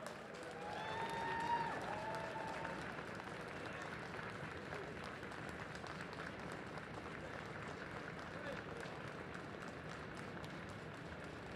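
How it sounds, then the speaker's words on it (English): Audience applause at an Emancipation Day main event as a lifetime achievement award recipient is honored, a steady, fairly distant wash of many hands clapping, peaking early and then holding even. "Let's all stand and give her a resounding applause, Dr. Dorothy Irene Height."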